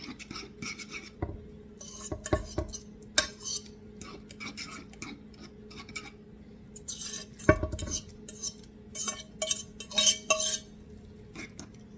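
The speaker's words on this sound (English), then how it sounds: "I'm stirring this in. I'm putting a little at a time." A utensil clinks and scrapes against a bowl while warmed eggs are stirred a little at a time into a Greek-style zucchini casserole mixture, in irregular bursts with quiet gaps.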